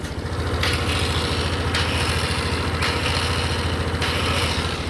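A Kymco scooter's starter motor keeps whirring because its starter button is stuck on. The whine stays close and loud, with a steady rapid pulsing and a few brief dips in tone.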